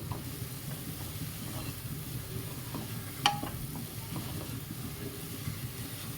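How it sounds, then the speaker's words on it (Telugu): Cauliflower paneer fried rice with chopped coriander gets stirred in a pan: a soft, steady sizzle runs throughout, with faint scraping and one sharp clink of the spoon near the middle, and no voices. "సన్నగా తరిగిన కొత్తిమీర వేసుకొని ఒకసారి మొత్తం కలుపుకుందాం"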